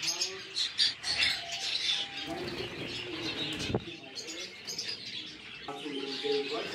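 Finches such as orange finches, cherry finches and zebra finches chirping at a bird farm, many quick bright tweets and calls overlapping, close and lively, with some talk in the background.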